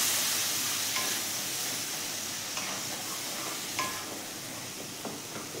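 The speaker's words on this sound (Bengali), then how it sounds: "জল দিয়ে মশলাটা খুব ভালো করে কষবো" Spice masala with cumin, kasuri methi, salt and sugar stirred and fried with water in a pan for a duck egg curry, a steady soft sizzle and hiss with occasional scraping stir strokes, close and alone.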